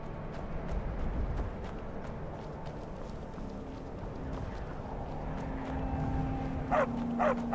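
Footsteps and panting of a dog companion in the fantasy game Skyrim, a rhythmic clip-clop of paws running over ground, moderately loud under busy game ambience with brief higher yips near the end.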